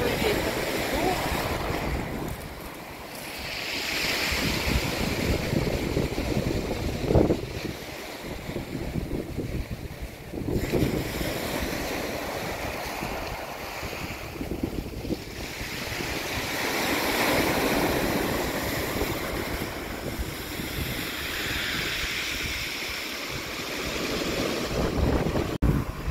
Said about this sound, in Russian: Слышно, какой ветер?